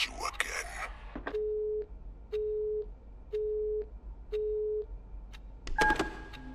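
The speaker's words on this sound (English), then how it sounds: "That phone call was in very bad taste." A steady telephone tone in the horror video game Luto beeps four times in an even rhythm, each beep about half a second long. Brief clicks and noise come before and after the beeps, and a second tone starts near the end.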